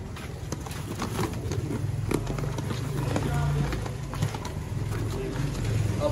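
Pigeons of a Sialkot fancier's crossbred flock coo in low, repeated throaty calls against steady background noise and scattered clatter, with voices nearby.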